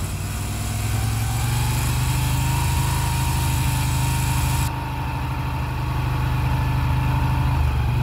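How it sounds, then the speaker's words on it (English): Moto Guzzi V7 850 motorcycle with a custom exhaust is held at about 3000 rpm, a loud, steady, rumbling engine drone heard up close that continues unbroken. "rev it up to 3K, leave it at 3K ish."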